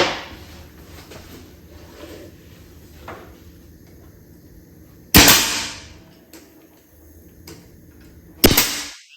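A nail gun fires nails into a wooden board with two sharp, loud bangs set several seconds apart, and quieter handling noise fills the gaps between them.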